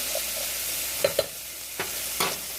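Onions cook in a warming saucepan with a low, steady sizzle and a handful of short stirring knocks against the pan.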